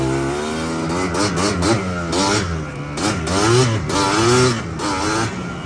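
A Yamaha Blaster ATV engine, just tuned up, revs loudly and close, its pitch climbing and falling in repeated throttle blips over a steady running note.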